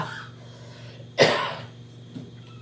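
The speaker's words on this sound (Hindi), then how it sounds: "सॉरी खांसी बहुत आ रही है।" A single sharp cough rings out close by, followed by quiet breathing and a low background hum.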